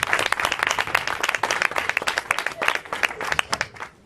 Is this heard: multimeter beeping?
no